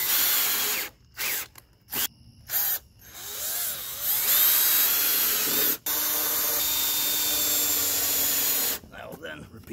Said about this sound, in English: Big old drill bit. Gonna drill just a bit of waste down.